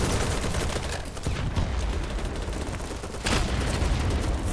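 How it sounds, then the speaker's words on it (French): Battle noise in the BattleBit shooter, with a grenade explosion amid dense rapid gunfire, a loud sustained clatter of shots and a sharp burst near the end. "je me suis pris une grenade"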